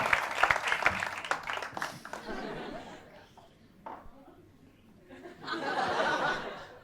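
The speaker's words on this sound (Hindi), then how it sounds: "तालियां बजानी शुरू करिए" Audience at a crowdwork comedy show clapping and chuckling, with broad bursts of applause at the start and again near the end, a lull of scattered sounds between, and loose chatter mixed in.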